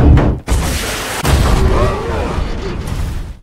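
Loud bursts of gunfire and heavy booms from RPG fire crowd the scene, a sharp rocket blast near the start followed by another explosion, with rumbling noise throughout.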